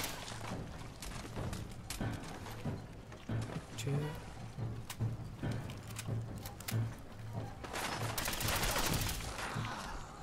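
Minigun firing in Fallout 4, dense rattling bursts of gunfire with booms, repeating throughout and building louder near the end, while someone talks over it.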